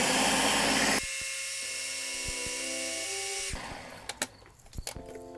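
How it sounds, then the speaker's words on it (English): A blender whirs through almost a pound of dry super hot peppers for hot sauce, a loud motor whine that shifts pitch partway, then cuts out, followed by a few clattering knocks. "So let's blend it."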